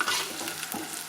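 Asafoetida and sugar stirred into a frying pan of grape pickle masala, Kerala style, giving a steady scraping stir over a soft continuous sizzle, close and alone with no voices.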